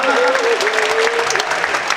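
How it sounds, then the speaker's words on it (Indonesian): Applause from an audience of about 150 university students meeting Jakarta's acting governor in a hall, a steady dense clatter of clapping at close range lasting the whole moment, with no pauses. "Oke, tepuk tangan dong."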